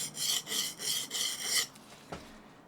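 A smoothing plane blade is rubbed back and forth in a zigzag on a sharpening stone, five even rasping strokes close up, then a single faint knock.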